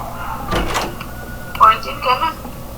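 A door opens in a Roblox horror game, a short creaking and thudding burst near the start, followed by fainter clunks, with people talking over it.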